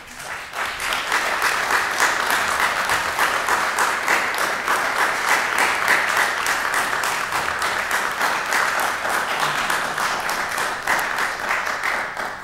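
An audience at an Orlando city council meeting breaks into sustained, steady clapping, a dense even patter lasting several seconds in a large chamber.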